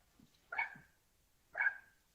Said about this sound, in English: Now my dogs are barking, of course,